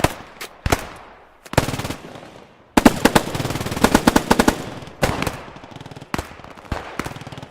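A machine gun fires in the Squad 44 video game on the Carentan map, with short sharp bursts and single cracks spread through the clip and a longer stretch of rapid fire in the middle, loud and close.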